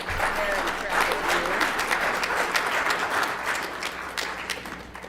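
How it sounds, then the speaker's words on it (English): An audience at a school board meeting applauds in a steady, full round of clapping that carries evenly throughout, with a faint voice or two underneath. "Let's give her another round of applause."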